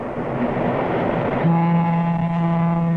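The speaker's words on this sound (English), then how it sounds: "What was that? A diesel streamliner." A model diesel streamliner train rumbles past, then a steady horn-like tone sounds loud and sustained over the rolling noise.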